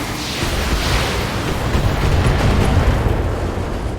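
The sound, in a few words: AC-5 autocannon firing in BattleTech video game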